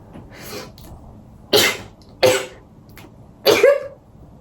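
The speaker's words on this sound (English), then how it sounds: "oh, I'm gonna sneeze." A person sneezes or coughs in sharp explosive bursts, three loud ones following a fainter one, with quiet breathing between.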